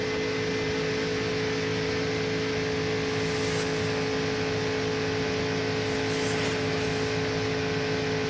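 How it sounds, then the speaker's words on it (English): A NASCAR race car with a failing engine in a 2002 Aaron's 312 race: a constant loud roar with steady droning tones and faint whooshes as the car passes, heard without voices. "He's just radioed to the crew Kenny Wallace has and said the motor's about to go."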